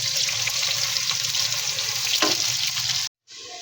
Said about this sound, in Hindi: इसमें मीडियम साइज के प्याज ऐड कर देंगे।